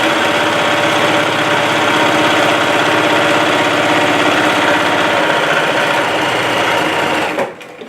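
A sewing machine runs continuously while stitching a row on fabric, a loud, close, even mechanical chatter that stops abruptly near the end.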